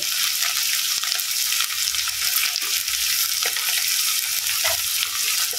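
Ginger garlic paste sizzles loudly in hot oil for a gour chikkudu and aloo curry, a dense steady frying hiss with faint stirring clinks underneath and no talk.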